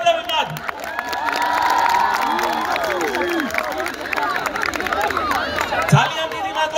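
A large outdoor crowd at the Baghdati town festival, Baghdatoba 2025, cheers and applauds the children's safety guards. It is a steady, dense roar of voices and clapping that swells early and stays loud throughout.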